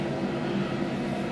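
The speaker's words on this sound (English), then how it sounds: "Sorry about that noise, that's the air vent." Steady, close ventilation fan of a shower room air vent, a constant broadband whoosh with a low hum and no talk over it.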